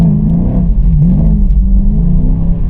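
A car's engine revs in a steady loud drone with a throttle swell as it drifts on a skid pad, heard close and alone.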